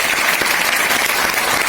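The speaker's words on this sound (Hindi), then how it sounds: "कोई भी एक बार जोरदार ताली" Loud, dense audience applause fills a network marketing workshop hall, a steady wash of clapping hands that runs unbroken from start to end with no voices rising above it.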